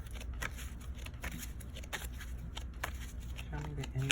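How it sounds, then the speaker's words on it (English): Repeated crisp riffling and flicking of tarot cards being shuffled, close by, with soft handling noises and a low background hum throughout. "let me just shuffle again."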